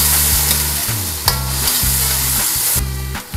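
Pork and a generous amount of tomato sizzle loudly in a pan for kinamatisang baboy, with a spatula scraping and stirring through the hissing in repeated strokes, close and steady with no talking.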